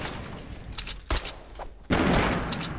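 Gunfire in Fortnite Battle Royale: several sharp shots crack out separately, then a heavier burst of rapid fire follows, loud and close, with little talk.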